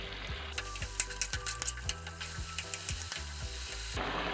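Chicken fries in a pan over a medium-high flame, a steady close sizzle broken by clinks and scrapes of a utensil stirring, with no talking.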